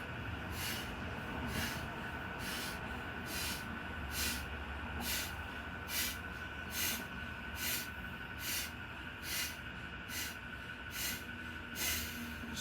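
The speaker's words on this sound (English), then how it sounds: "just focusing on the breath of fire" Breath of fire yoga breathing: a long run of rapid, forceful nasal exhalations in an even rhythm, about one sharp hissing puff every second, close and clear with no talking.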